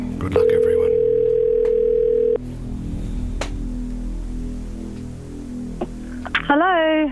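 A radio show places a call to a listener and a steady telephone dialing tone sounds for about two seconds, followed by quiet line hiss and clicks before a voice answers at the end.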